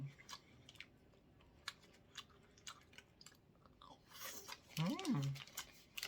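Soft, close chewing of jjageuli, a Korean stew, with scattered small crunchy and wet bites spread across the clip, followed near the end by a brief hummed vocal sound.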